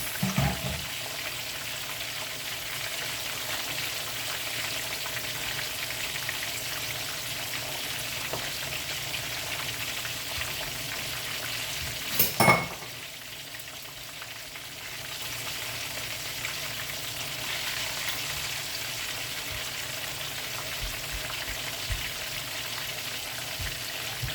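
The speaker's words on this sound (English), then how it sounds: "Over here I have some pineapple and pineapple juice boiling for my sweet and sour sauce." Pineapple and pineapple juice boil in a pot on the stove for sweet and sour sauce, a steady bubbling, hissing simmer continuous for the whole stretch, with a brief clatter near the middle.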